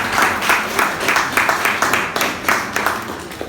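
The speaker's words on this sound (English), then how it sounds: "Can we have a round of applause for Eric Huntley" Audience applause at a double book launch, steady clapping from a room of listeners with rhythmic bursts sustained throughout.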